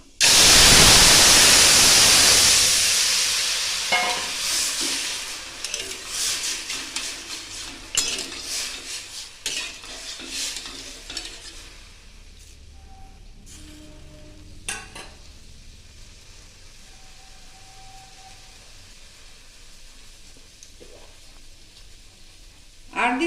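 Pressure-boiled tomatoes tipped into hot mustard oil in a pan give a loud burst of sizzling that fades over several seconds. Scattered spoon-against-pot clinks and stirring scrapes follow, with quieter frying continuing underneath.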